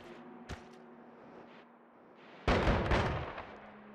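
An explosion goes off in the pixel-physics game Noita: an earlier sharp pop, then a loud, deep boom that rumbles and slowly fades over a second or so.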